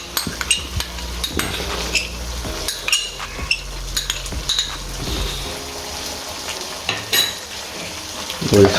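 Chicken jalfrezi sizzling and frying in a pan as ketchup is stirred in, with loud irregular scrapes and clinks of a utensil against the pot over a steady hiss.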